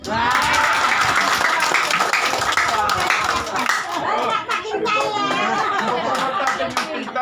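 Dense crowd applause rolls on steadily and loudly from start to finish, with voices and chatter mixed through it.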